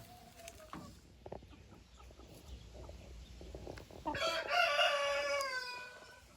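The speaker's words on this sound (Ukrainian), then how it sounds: "Півник фавіроль, красунчик." A Faverolles rooster crows loudly and close by in the second half, its drawn-out call rising over quieter clucking and scattered farmyard noise from the chickens around it.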